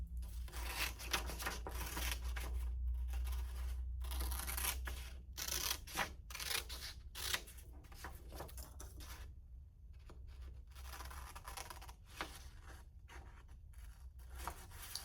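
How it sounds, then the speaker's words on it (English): Scissors cut along the lines of paper, with a steady series of close, rasping snips and rustling paper scrapes over a low background hum, no talking. "So cut right along the lines."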